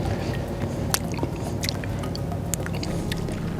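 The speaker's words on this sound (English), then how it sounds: "So that oil has been dripping for a little bit there." Motor oil draining from a car drips onto a pan during an oil change, giving scattered wet squishy drips over a steady close noise floor, with no talking.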